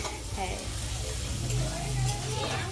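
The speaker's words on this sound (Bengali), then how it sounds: "দিদির বাড়িতে রান্না করছি চিকেন" Chicken frying and sizzling in a pan in a home kitchen, a steady hiss with low stirring scrapes running continuously, close and moderately loud.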